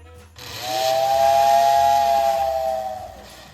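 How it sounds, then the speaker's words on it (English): A toy train whistle on a Christmas model railroad display sounds a single sustained, steady tone for about three seconds, close and loud, with a faint mechanical hum underneath. "I've got a whistle button that people can come up and press."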